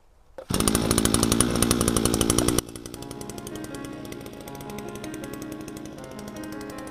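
A GPT TBC-522 petrol string trimmer cuts through dandelions, its engine starting with a loud, steady high-revving whine that then drops to a lower, rougher idle-like drone for the rest of the clip.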